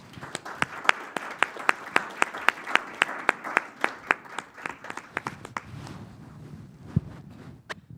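Scattered applause from a small audience at a Seattle cultural candidate forum, distinct individual claps in a steady rhythm that thin out and fade into room noise near the end.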